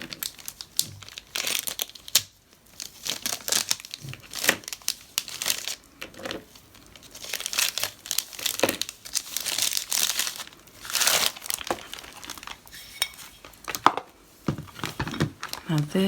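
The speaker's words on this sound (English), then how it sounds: "How do you open it? I guess you just rip it open." Plastic packaging of a new silicone practice hand being ripped open, a long run of close crinkling, tearing and crunching in uneven bursts.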